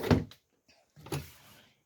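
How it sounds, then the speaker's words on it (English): A full pull-out storage drawer in an Open Range Light 312BHS travel trailer slides open with a close thump, a brief pause with a faint click, then a second sliding rumble that trails off. "Down here is a full pull-out drawer."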